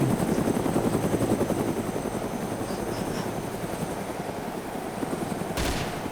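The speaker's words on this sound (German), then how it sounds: "Der schießt auf einen Heli, los." Loud, steady helicopter rotor thrum with bursts of gunfire in the DayZ video game, the chopper close and dominant throughout and a sharp crack near the end.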